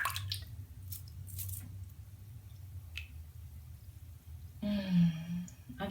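A snowflake bath bomb drops into bath water with a short splash and fizzing plunge near the end, after a stretch of quiet room tone with a few soft breaths and small handling sounds.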